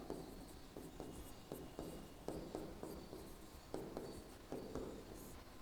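Chalk or marker writing on a board during a physics lesson on units and dimensions, a series of rhythmic scratchy strokes and taps at moderate distance, with no speech over it.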